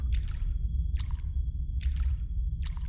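A player wades through water in the horror game Depth 6, with rhythmic sloshing splashes repeating about every second over a low rumbling underwater ambience and a faint steady tone.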